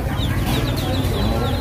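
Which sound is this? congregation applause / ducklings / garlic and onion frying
ducklings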